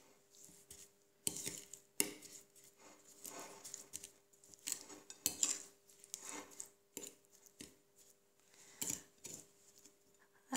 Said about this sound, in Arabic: نخلط المكونات جيدا